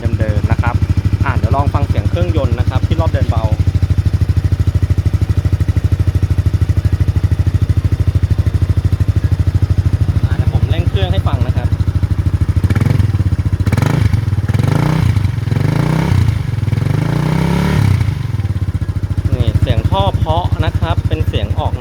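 A Honda Forza scooter with a modified stock exhaust idles with a deep, steady, soft throb, then revs up several times in bursts; someone talks over it before and after the revving.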